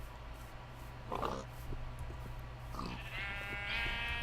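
Sheep in a survival video game bleat twice, each short wavering cry standing out clearly over a low background hum.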